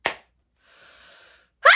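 A single abrupt, airy burst at the start, then a faint tonal hum and another sharp noisy burst at the end, consistent with a nearby sneeze during an interview.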